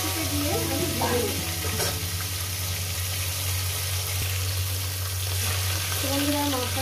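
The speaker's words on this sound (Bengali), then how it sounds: "গোটা মাছটাকে দিয়ে আমি ভেজে নেব" A whole lailontika fish frying in hot oil, making a steady, loud, close sizzle with crackling spatters throughout and no talking.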